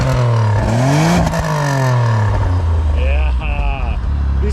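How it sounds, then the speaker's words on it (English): A car exhaust revved hard in repeated bursts, engine pitch sweeping up and falling back with throaty rumble and rattly clatter, loud and close, with a high whine joining in toward the end. "Yeah, we better give the exhaust a test."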